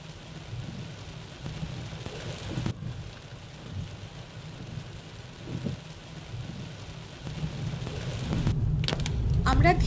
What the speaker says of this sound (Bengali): জাস্ট স্টার্ট করলাম আর সজোরে বৃষ্টি নামল। প্রচণ্ড জোরে বৃষ্টি হচ্ছে।